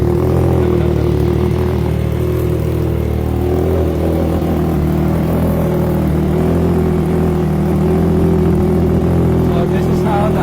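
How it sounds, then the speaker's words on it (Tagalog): A Triumph Trident 660 motorcycle fitted with an aftermarket exhaust idles steadily, a loud, even engine burble that holds without revving, with a voice speaking over it. "So this is how the idle sounds,"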